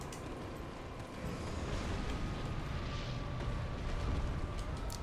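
A loud, sustained rumbling explosion in Dark Souls 3 fills the scene, with a dense, heavy roar that swells after the first second and holds steady to the end.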